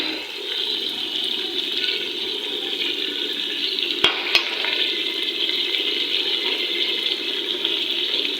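Chicken frying in a pan as yogurt is added: a loud, steady hiss of cooking fills the whole stretch, with two quick sharp clicks midway, close and with no talking.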